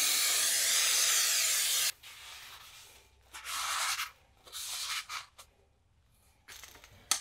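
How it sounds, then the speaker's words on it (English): Brake cleaner is sprayed onto an old rear brake drum during a wheel bearing job on a Polo, Fabia, Ibiza or Cordoba: a loud, steady hiss for about two seconds, then several shorter bursts of spray with quiet gaps between them. "Just clean it up with some brake cleaner."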